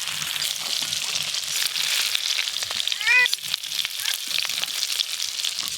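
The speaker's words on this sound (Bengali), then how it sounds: "দেখতে দেখতে বাগদা চিংড়ি মাছগুলো একদম লাল লাল করে ভাজা হয়ে গেল।" Tiger prawns frying in a pan, a steady hiss and crackle of hot oil running throughout, with a brief, louder spitting burst near the middle.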